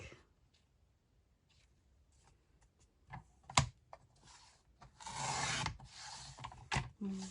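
Paper for a mini album is cut twice with a paper trimmer, producing sharp clicks and two longer slicing swishes, close and moderately loud against a quiet background.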